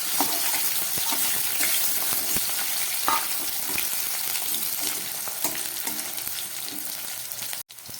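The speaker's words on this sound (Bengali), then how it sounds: "তেলটা গরম হয়ে গেছে এর মধ্যে আমি কেটে রাখা উচ্ছেগুলো দিয়ে দিলাম" Sliced bitter gourd fries in hot oil in a wok with a steady, close sizzle, broken by soft clicks of stirring and a brief dropout near the end; no talk.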